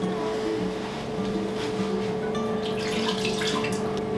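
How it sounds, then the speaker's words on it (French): Water pouring into the bowl of a Cookeo multicooker, a steady close splashing wash with no talk over it. "Il faut juste ajouter un petit peu d'eau dans la cuve."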